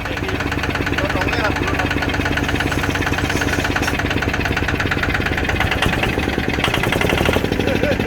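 A Kubota ZT155 plus diesel engine fitted to a mini farm vehicle idles loud and close with a steady, even knocking chug that holds constant throughout.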